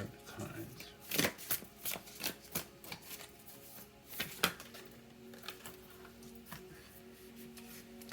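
Tarot cards are shuffled in a string of quick riffling bursts up close and soft, with a few firmer taps as the deck is squared, while a voice talks over part of it.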